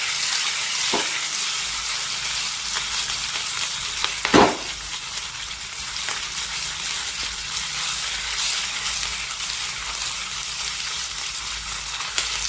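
A steady, hissing sizzle of food frying in a pan, with a single sharp metallic clink from a utensil partway through.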